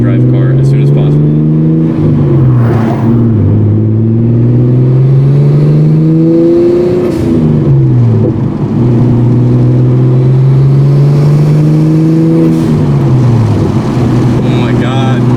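A right-hand-drive Nissan Skyline R34 engine revs loudly while driving, the pitch rising and falling in repeated close sweeps as it accelerates and shifts, with voices talking over it.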